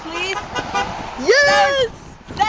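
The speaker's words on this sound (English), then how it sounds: "Honk! Honk, please." A car horn honks in a long sustained toot at close range, with excited voices talking and shouting before and after it.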